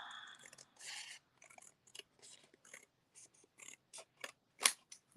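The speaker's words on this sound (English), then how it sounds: "And I may trim this just a tiny bit." Scissors snip through designer paper being trimmed for a handmade card, a run of short, crisp close-up cuts in uneven rhythm, with a sharper snap near the end.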